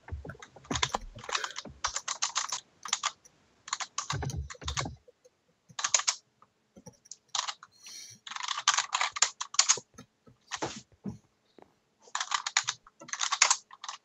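Computer keyboard typing in bursts of rapid clicking separated by short pauses, close and fairly loud, during a Minecraft Draw My Thing game, with no talk over it.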